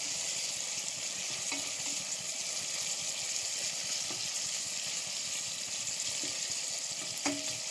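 Salt and hot pepper sizzle in hot oil in a rice cooker, a steady close frying hiss with occasional light clicks of a stirring utensil and no voices.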